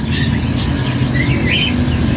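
Birds squawk and chirp at a busy bird market with pigeons and other caged birds, sharp calls rising over a dense, loud background of market din.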